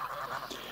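Domestic farmyard geese honking close by in a continuous nasal chorus, the calls overlapping with no pauses.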